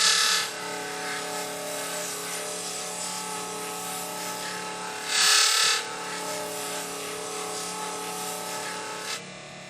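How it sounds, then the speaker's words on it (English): A burnishing machine polishes the edge of alligator leather, giving a steady, loud rasping whir with a brief louder scrape partway through. No one speaks. "So I'm going to go ahead and polish that edge."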